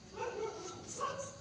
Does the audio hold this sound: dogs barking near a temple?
yes